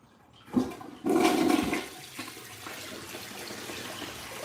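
A toilet with a blocked siphon jet flushes nearby: a short splash, then a louder surging rush of water that tapers into a lingering trickle and hiss as the bowl refills.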